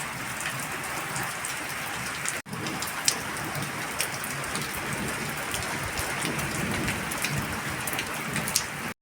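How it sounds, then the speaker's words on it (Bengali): Heavy rain pours steadily during a stormy night with lightning and thunder around, a dense, even hiss of drops on surfaces, close and continuous with a brief cut near the start. "ভালোই বৃষ্টি শুরু হয়ে গেছে"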